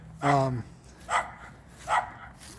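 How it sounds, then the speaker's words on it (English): A dog barks three times at a close distance, the barks evenly spaced and loud against a quiet background. "Sorry about the dog barking."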